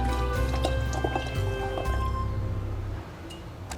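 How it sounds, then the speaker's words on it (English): Wine pours into a glass with a soft, close trickle and a few drips, quiet and steady for a few seconds. "I might just pour a little glass of wine to enjoy with the"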